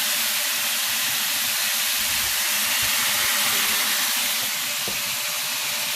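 Steam hisses steadily from a pot of Jamaican-style oxtails cooking on the stove, a broad continuous airy rush that holds loud and unbroken with faint low bubbling beneath and no voices.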